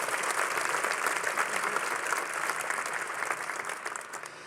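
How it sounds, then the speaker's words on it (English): Audience at a panel event applauds steadily to welcome the speakers, a dense, even wash of clapping that holds for several seconds without any talk. "Let's give them a round of applause to welcome them."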